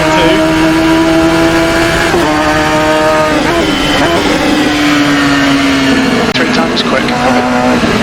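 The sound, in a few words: Radical SR3 XXR race car engine in video game Assetto Corsa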